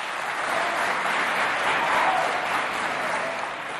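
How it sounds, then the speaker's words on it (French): An audience applauds a student poet at a televised Chadian inter-college competition, a steady dense wash of clapping that holds evenly for a few seconds, fairly loud and continuous with no talk over it. "on l'applaudit s'il vous plaît"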